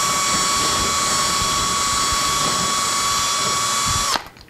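A drill bores out holes in a wooden drawer in a woodworking shop, giving a loud, steady high-pitched whine that runs for about four seconds before abruptly cutting off.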